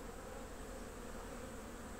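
Honeybees buzz steadily around a hive during warm autumn weather, a dense, even insect drone that fills the whole stretch without pause or voices.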